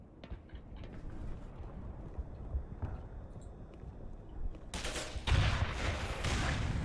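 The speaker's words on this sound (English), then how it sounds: "Wow, these rockets fire like kind of slow." Rockets firing in an action video game, heard as a dense rumbling barrage of blasts with a sharp, loud burst near the end, continuing steadily with no talking.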